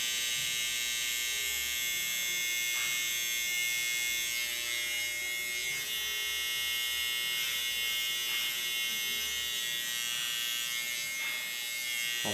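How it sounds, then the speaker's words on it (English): Electric hair clippers buzz steadily and loudly as a beard is trimmed during a fast fade and textured crop haircut, the close, continuous whine dipping slightly with each pass and no speech over it. "Using the back end of the clipper for the C-cup."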